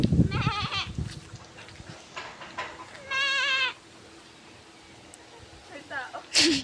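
A goat gives several wavering bleats, one long and loud in the middle and shorter ones near the start and end, with people talking quietly in the background between calls.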